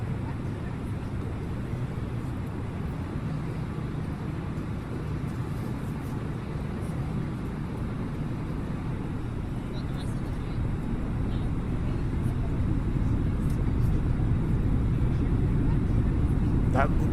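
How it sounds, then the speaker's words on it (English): Airbus cockpit with flaps extending to position 2, a steady loud broadband rush of aerodynamic drag and engine roar that holds constant and swells slightly toward the end. "That sound of the flap drag"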